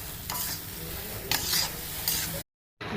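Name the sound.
stirring mutton in pan for mutton chukka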